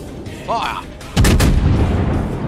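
Heavy artillery fire from a battle cruiser in a naval combat video game: a loud, broadband blast lands about halfway through and its rumble carries on to the end, preceded by quieter game effects.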